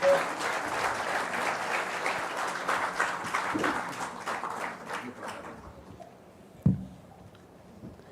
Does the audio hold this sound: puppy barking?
no